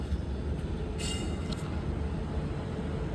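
A train rumbles at a railway platform as a continuous low, dense mechanical roar, with faint high squeals briefly rising above it and no talking.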